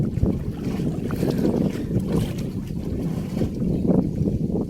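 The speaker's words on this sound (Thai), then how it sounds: "ลมก็ค่อนข้างแรงนิดนึงครับ" Strong wind blows outdoors, buffeting the microphone with a loud, constant low roar and rumble that barely lets up across the few seconds, with no voices.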